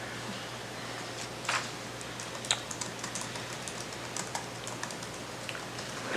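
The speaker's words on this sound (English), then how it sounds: "For those that can't see, Jessica's typing really fast." Rapid typing on a computer keyboard during a meeting, with quick, light key taps and a few sharper clacks, fairly faint over a steady low hum, and no talking.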